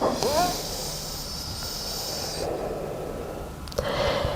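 A slow yoga breath: a hissing inhale and exhale through the nose, close and fairly soft, with a brief sharper sniff near the end.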